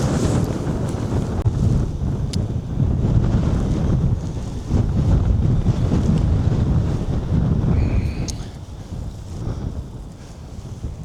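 Strong wind gusts buffet the microphone outdoors while a storm tent is pitched, a steady low roaring rush that eases toward the end.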